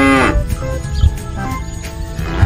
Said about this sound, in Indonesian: Wow, ini kerbau.